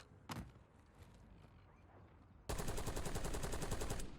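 Gunfire in the video game Warzone: one sharp shot near the start, then a sustained burst of rapid automatic fire in the second half, loud and close.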